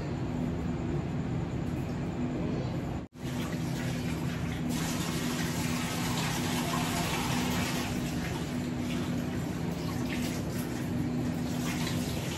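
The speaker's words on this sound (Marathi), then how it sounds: "व्यवस्थित 2-3 पाण्याने वॉश करून घेते" Basmati rice being washed in water for jeera rice, with a steady sloshing, rushing water sound close by that runs throughout, broken by one brief gap early on.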